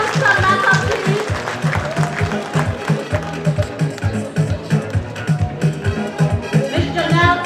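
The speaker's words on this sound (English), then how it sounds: "Let's give them a round of applause." Audience applause for models at a fashion show during a National Day celebration, sustained clapping mixed with a pulsing, rhythmic music beat that runs throughout.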